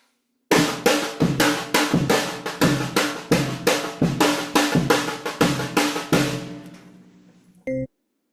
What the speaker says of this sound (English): Over a bass drum, it would sound like this.